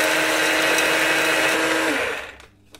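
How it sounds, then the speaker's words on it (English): Electric coffee grinder grinding fresh coffee beans, a loud, steady high-pitched whir for about two seconds that cuts off abruptly, followed by a brief quiet rattle. "Then we're going to grind our coffee beans."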